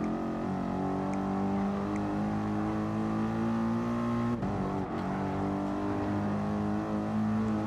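A race car in Gran Turismo Sport screams under sustained power, a loud, steady, high-revving engine tone with layered harmonics, briefly dipping for a dab of the brakes before resuming.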